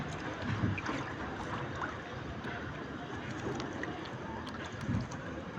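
Strong northeast monsoon wind buffets the microphone on a small fishing boat at sea, a steady roaring rush with gusty swells and water noise throughout.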